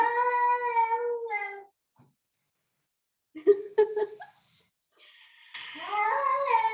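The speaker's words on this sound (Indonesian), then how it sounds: "bukan suara unta ya, ternyata ada suara kucing" A cat meows loudly in drawn-out wails, pausing into silence, then several more yowls and a long caterwaul close by.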